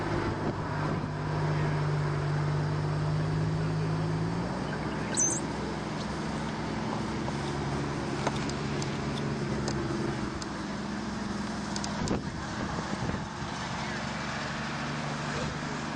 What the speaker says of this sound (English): Got a water truck going on here behind us, a lot of noise, distractions.